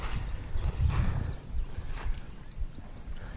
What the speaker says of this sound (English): Got horses in the background.